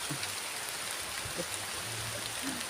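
Rain beginning to fall outdoors, a dense steady hiss of drops on surfaces with faint low rumbles and scattered small sounds underneath.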